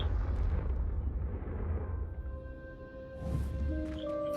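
A Confringo spell explosion in Hogwarts Legacy, a dense low fiery roar that swells and subsides, with a brief crackle and a rising tonal shimmer near the end.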